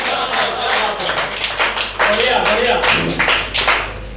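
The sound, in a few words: audience clapping for a poet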